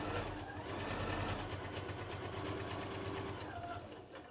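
Sewing machine running steadily as it stitches a seam on a fabric bin, a continuous rapid mechanical whir with needle rhythm, close and fairly loud throughout.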